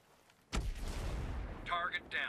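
A frag grenade explodes in the Breakpoint: Ghost War video game, a sudden close boom followed by a rumbling roll-off, with game voice effects briefly over the tail.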